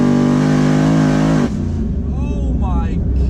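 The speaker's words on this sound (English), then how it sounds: "It's because of that roaring V8 from under the hood." A twin-turbo Chevrolet Camaro ZL1 V8 holds a loud, close, high rev before abruptly dropping off into a rough, burbling idle.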